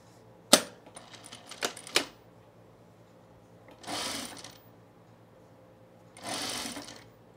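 A sewing machine stitching a men's shirt set to a short stitch length, heard as two short whirring runs after a few sharp clicks and knocks, close and fairly quiet.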